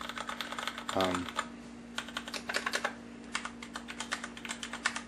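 Rapid, uneven clatter of keystrokes on a Corsair K90 Vengeance MMO mechanical keyboard, close and clear, with bursts and short pauses between runs of typing; a brief low hum or voice surfaces near the start.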